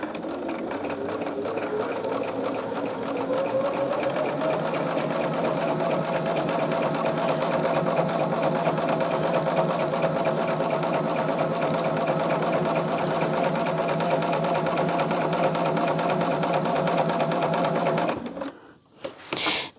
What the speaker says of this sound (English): start this right on the edge and sew it at 1/4 of an inch